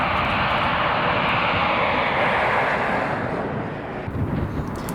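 Class 47 diesel locomotive 47805 roars past at close range on a Carlisle to Dumbarton working in Scotland, a loud, broad engine rumble that holds steady and then begins to fade.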